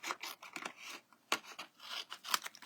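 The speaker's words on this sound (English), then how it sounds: "So I am going to just use my scissors to cut these out" Scissors snip through paper card pieces for a Halloween pumpkin card, giving a close, quiet series of crisp cuts in an uneven rhythm with short pauses, with no voice.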